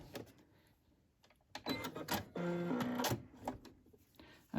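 A sewing machine stitches fabric ruffles in short bursts, quiet handling noises between runs, then a longer burst of rapid whirring stitches finishing with a brief back stitch.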